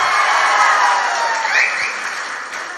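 A large crowd at a political rally in Sringavarapukota cheers and claps in a broad, sustained roar that swells and then slowly fades.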